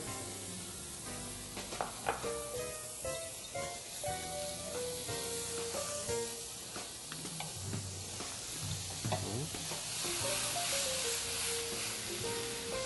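Butter sizzles and hisses in a hot frying pan alongside green peppercorns, a steady crackling fizz with scattered small pops and the occasional clink of a utensil. No one talks.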